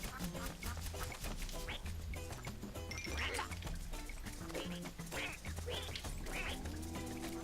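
Repeated duck quacks cut through busy, continuous game music and effects, a steady dense backdrop throughout.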